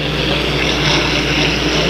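A 1.5-litre hydroplane racing boat engine roars loud and steady at close range during qualifying at Brockville, a dense, sustained high-revving drone that barely wavers.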